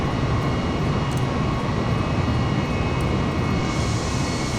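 Jet taking off in Microsoft Flight Simulator, a loud, steady engine roar holding constant throughout with no pauses.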